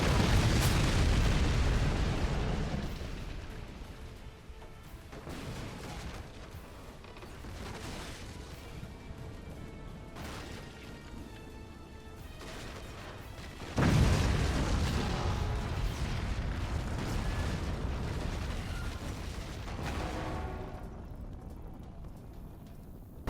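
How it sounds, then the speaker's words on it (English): Rocket impacts and explosions from a mech combat video game sound as a dense, rumbling barrage of booms and bursts, loud at the start, lingering as a churning roar, then a fresh heavy blast midway followed by sustained rumble. "The rockets just impact, and this is checkmate"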